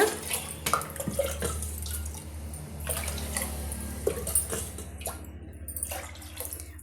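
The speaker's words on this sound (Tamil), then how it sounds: "இப்போ நம்ம அஞ்சு கப் அளவுக்கு தண்ணி வந்து சேர்த்து விட்டுக்கலாங்க" Water pours from a cup into a rava (semolina) appalam dough mixture, a close, continuous splashing trickle with scattered drips and no talking.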